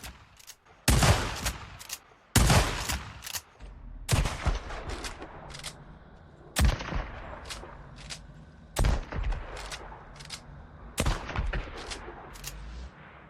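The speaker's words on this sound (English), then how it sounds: "Next up in our shotgun category, we have the combat shotgun." Repeated heavy blasts of a combat shotgun in the video game Days Gone, loud and close, fired in irregular bursts of two or three with short gaps and crackling tails between shots.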